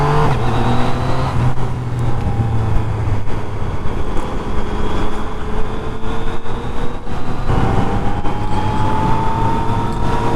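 A 2019 Yamaha MT-09 motorcycle is ridden on the road, its engine note sweeping down as it engine-brakes, then rising again under acceleration, loud and close over wind rush.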